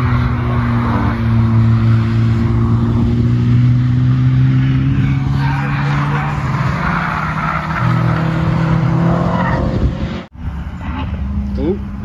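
A loud turbocharged Porsche race car runs laps at the Castle Combe circuit, its engine droning steadily and close with shifting pitch, a brief dropout near the end, and people talking over it.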